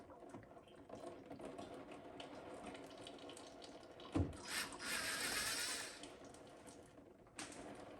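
A ratchet loosens transmission pan bolts under a 2004-2008 Ford F-150 with a 4R70W-family automatic. Quiet, rapid clicking rises in a burst near the middle and returns briefly near the end, with no talking.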